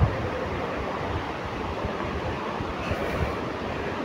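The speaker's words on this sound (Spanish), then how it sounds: "Aquí viene el río Cusiana." Rushing water of the Cusiana river on a mountain route in Boyacá, Colombia: a steady, loud broadband roar that stays constant throughout, with no voices over it.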